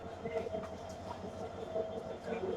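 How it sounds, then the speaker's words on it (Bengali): A train rumbles at a distance at a station as its locomotive is uncoupled, with faint rhythmic clatter and metallic creaks, a steady low hum underneath. "এই যে দেখেন ইঞ্জিনটা খুলে নিয়ে যাচ্ছে"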